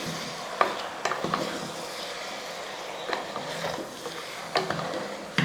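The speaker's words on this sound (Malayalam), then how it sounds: "ഇനി നമുക്ക് നന്നായിട്ടൊന്ന് ഇളക്കി അങ്ങോട്ട് കൊടുക്കാം" Onions and bones frying in a pan for a Kerala-style dish, stirred with a steady sizzle underneath and a handful of sharp spoon scrapes and knocks spread across the stretch.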